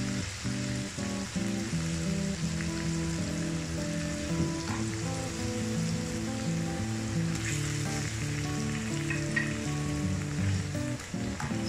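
Tomatoes fry in a fish karahi with a dense, steady sizzle and crackle, close and continuous with no voices over it.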